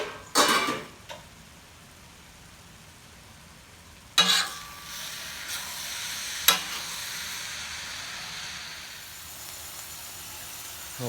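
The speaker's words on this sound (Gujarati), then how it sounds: "હવે આપણે બધી એક બાજુ કરીને પ્રોપરલી બફાઈ જાય ત્યાં સુધી આવી રીતે હલાવતા રહેવાનું" Surti gotalo stirred and fried in a pan, a low sizzle and hiss underneath with a few sharp scrapes and clanks of a utensil against the pan, louder near the start and again around four and six seconds.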